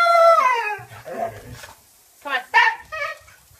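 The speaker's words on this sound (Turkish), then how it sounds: "her banyo kelimesini duyduğunda ağlamaya başlayarak kendini yere attı" A dog cries and howls in protest at bath time, a drawn-out, wavering howl followed by shorter whining yelps, loud and close, with some speech mixed in.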